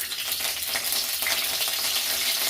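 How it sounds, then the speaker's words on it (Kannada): Curry leaves hit hot oil in a pan for an instant noodle dish, giving a loud, steady, close sizzle with a bright crackling hiss throughout and no voices. "ಎಣ್ಣೆ ಬಿಸಿ ಆಗಿದ ತಕ್ಷಣ ಕರಿಬೇವು ಹಾಕ್ತಿದ್ದೀನಿ."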